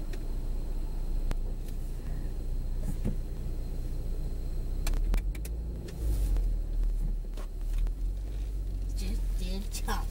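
A school bus pulls up on a residential street, its low engine rumble and passing vehicle noise steady throughout with a few brief clatters, while a person talks nearby.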